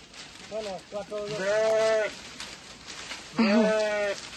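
Goats bleat several times nearby while leaping to eat jujube tree leaves, wavering cries coming in short bursts with brief pauses between them.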